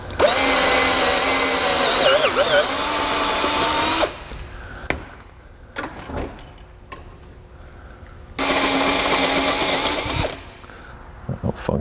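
Power drill with a tapered bit reaming out slightly tight washer holes for studs during final assembly, two loud sustained whirring bursts of about four and two seconds separated by quieter handling clatter.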